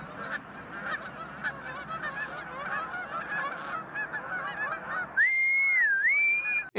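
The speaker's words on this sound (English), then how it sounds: "The work herding geese." A large flock of geese honking loudly and continuously at close range, a dense overlapping chorus of calls, ending with a sudden sustained whistle-like tone.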